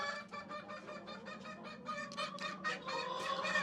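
Hens in a chicken coop cluck steadily and repeatedly, a busy overlapping chorus of close calls with no talking.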